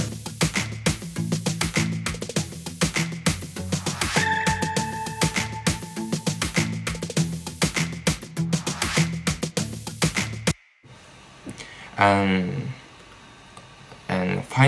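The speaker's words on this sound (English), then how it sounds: "muted guitar sounds like this." A muted guitar plucks a steady, rhythmic part inside a dense studio mix for a song. After about ten seconds it gives way to a sparser passage with a gliding, voice-like tone.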